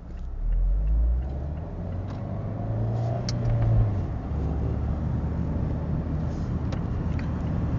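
A Fiat 124 Spider drives around a roundabout, its engine a steady low rumble with a slight rise in revs partway through, heard from inside the car with no talking.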